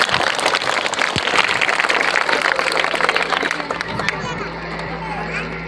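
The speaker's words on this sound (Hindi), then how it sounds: "एक बार जोरदार ताली बजाएं छात्राओं के।" Loud, sustained applause from an audience of students, parents and teachers at an Independence Day school celebration, dense clapping with some children's voices, thinning toward the end.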